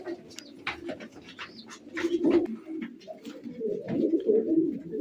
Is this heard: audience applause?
no